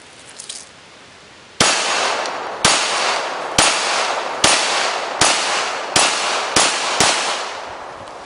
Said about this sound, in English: she's going to take a few shots on target